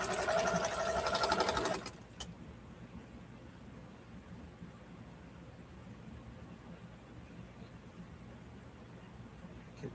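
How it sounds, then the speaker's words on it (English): Sewing machine stitching a quilt block in a rapid steady run for about two seconds, close and loud, then stopping, leaving quiet room hum. "I'll sit here and sew another block while you do that."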